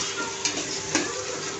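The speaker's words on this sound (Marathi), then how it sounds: "आता आपण टोमॅटो मऊ होईपर्यंत शिजवून घ्यायचा आहे छानपैकी।" Tomatoes fry in a pan for vegetable rice with eggplant and potato, giving a steady soft sizzle, while a spoon stirs and scrapes the pan with two brief clinks, close up and with no talking.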